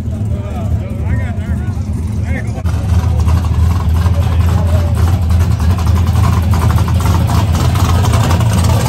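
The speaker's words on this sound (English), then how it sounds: "Chevrolet motor." A Chevrolet diesel engine runs loud and steady at a no-prep diesel drag race in Texas, a heavy continuous rumble that swells after a couple of seconds, with voices talking over it.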